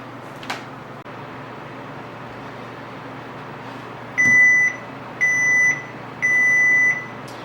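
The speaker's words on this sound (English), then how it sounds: "Okay, that was our timer." A kitchen timer in a home kitchen during cheesemaking gives three evenly spaced electronic beeps, each shrill and about half a second long, over a steady low background hum.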